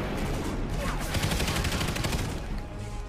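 Rapid automatic gunfire from a gun in a Call of Duty story mission, a dense rattling stream of shots that runs for about three seconds with no speech.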